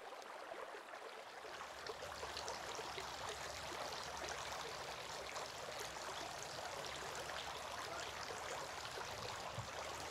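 Water runs steadily over feet during ablution, a continuous stream-like splashing and trickling that stays close and even for the whole stretch with no talking.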